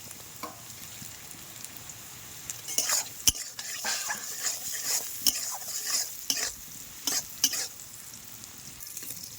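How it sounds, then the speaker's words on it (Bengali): Carrots frying in ghee with a pinch of salt in a kadai, a steady sizzle broken by repeated scraping stirs of a spatula against the pan, close and fairly loud. "গাজরটা ভেজে নেব"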